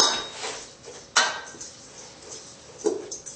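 A spoon stirs black pepper into a thick cheese and flour mixture, making a few soft scrapes and light clinks against the bowl, close and fairly quiet, with no talking.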